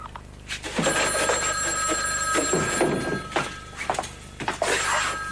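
An old-style telephone bell rings repeatedly in a soap-opera scene, its bright metallic trills clear and fairly close, with brief pauses between rings and no speech over them.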